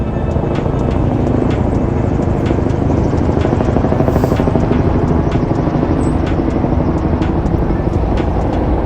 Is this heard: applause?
no